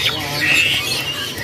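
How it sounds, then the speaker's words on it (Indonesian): Rosy starlings at the Pramuka bird market in Jakarta give a brief burst of shrill, chattering calls over a background of market bustle. "ini pilihan burung jalak mawarnya"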